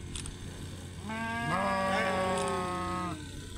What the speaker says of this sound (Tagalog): Ayun yung mga tupa dito. Ang puting tupa